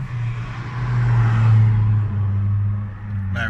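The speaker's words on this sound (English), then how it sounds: "Loud cars." Loud car traffic rumbling past with a steady low engine drone that swells in the middle and eases off, with no voices over it.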